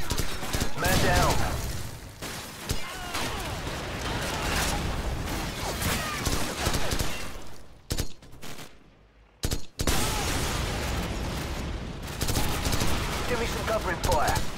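Rapid automatic gunfire and scattered shots from a Call of Duty 4: Modern Warfare urban firefight, loud and dense, with brief lulls and shouted voices mixed into the battle.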